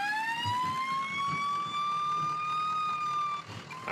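Fire engine sirens wailing as the engines arrive on scene in the Roblox game First Responders: Coastal Heat, a loud rising electronic tone holding steady over engine rumble, cut short near the end.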